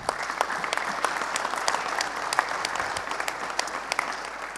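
Audience applause at a round-table event in Lille, a steady dense patter of many hands clapping, fairly close and continuous throughout with no voices over it.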